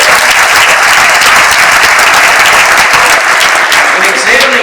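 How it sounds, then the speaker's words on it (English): Loud, close, continuous applause from an audience at a school awards ceremony, a thick wash of clapping hands with no gaps. "Big hand of applause for all of you."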